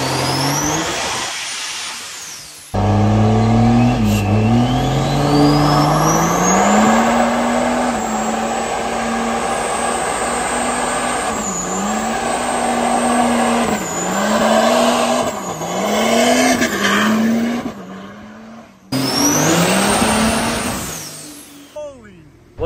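A modified Cummins diesel dually truck with a stock block, stock pistons and stock crank revs hard, its loud engine note climbing and falling in repeated surges with a brief cutoff before a final rev.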